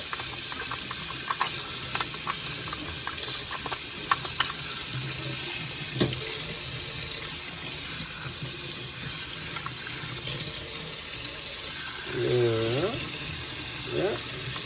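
Hot tap water runs and splashes steadily as a Saeco/Gaggia coffee machine brew unit is rinsed under it in a sink, with brief clatters and a faint voice near the end.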